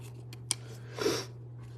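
Scissors snip once under stabilizer fabric after in-the-hoop embroidery of a treat bag on a Baby Lock Altair 2 machine, a short, close, quiet cut over a steady low hum.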